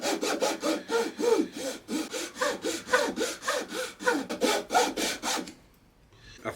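A small hand saw cuts a piece of wood on an Art Deco nightstand, making rhythmic back-and-forth rasping strokes, about a dozen close strokes in steady tempo, then stopping.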